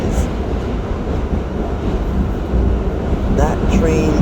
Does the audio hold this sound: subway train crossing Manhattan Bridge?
yes